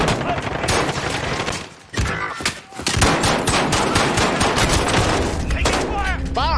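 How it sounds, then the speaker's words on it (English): Sustained automatic gunfire in a Call of Duty battle royale match, rapid loud bursts close by with a brief lull, then continuous rattling fire that continues to the end. "Taking fire!"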